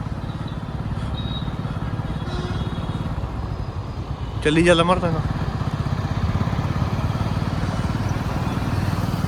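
Motorcycles and cars pass through a busy market street in Amloh, a steady close engine rumble that swells as one vehicle goes by midway, with people talking over the traffic.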